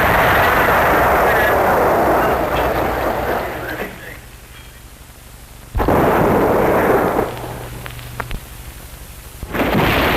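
Artillery rounds bursting on target during 1950 army training at a camp, heard as two heavy booming blasts with long rumbling decay, each followed by quieter distant rumble before another burst begins.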